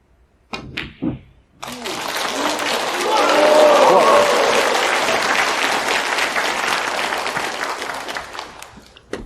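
Snooker audience at the 2023 Shanghai Masters breaks into sustained applause after a shot, swelling to a steady wash of clapping that slowly fades; a brief voice precedes it.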